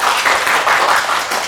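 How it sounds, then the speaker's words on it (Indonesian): Audience at a school event claps in a dense, steady burst of applause, loud and close, with no voices over it. "kasih tepuk tangan lagi dong"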